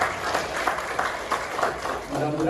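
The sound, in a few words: audience applause at business seminar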